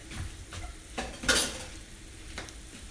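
A flour and butter roux cooks in a pan with a faint, low sizzle, broken by a few soft scrapes and one brief clink of a utensil against the pan, quiet and close.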